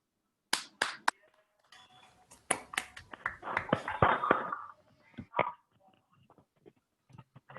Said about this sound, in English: we can unmute our microphone and clap up to show our appreciation